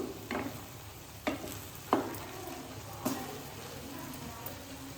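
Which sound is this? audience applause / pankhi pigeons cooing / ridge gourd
ridge gourd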